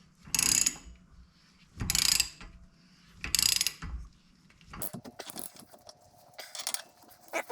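A ratchet wrench tightens a lug nut onto a wheel stud while the hub is braced by a tool between two studs: three loud, close bursts of rapid ratcheting clicks, then lighter scattered clicks and clatter.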